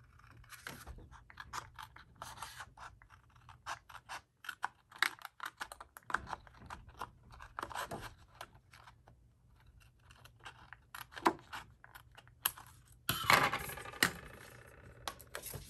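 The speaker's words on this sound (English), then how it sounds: "now I am going to trim this little piece off" A small piece is trimmed off a handmade pocket folder, giving quiet, irregular snipping and scraping strokes spread across the clip, with a louder, denser burst of cutting near the end. No one speaks.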